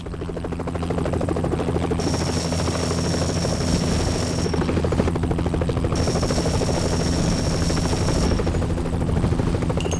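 Military helicopter from a video game cutscene, call sign Super 6-4, hovering with a loud, steady rotor drone throughout while bursts of gunfire and a high whine sound in two long stretches as it fires on snipers in guard towers.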